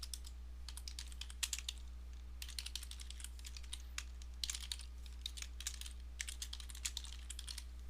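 Keyboard typing while filling in table fields in Microsoft Access, heard as brisk bursts of close, crisp key clicks separated by short pauses over a steady low hum.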